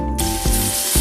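Two teaspoons of olive oil hitting a hot pan for a sweet potato and broccoli soup, a sudden bright sizzle that holds steady and loud for about a second, close with no talk.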